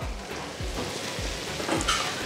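Previously fried chicken pieces tipped into sizzling masala gravy for chicken perattu, a loud continuous sizzle with a few rhythmic thuds as pieces land and get pushed around, close up with no talking.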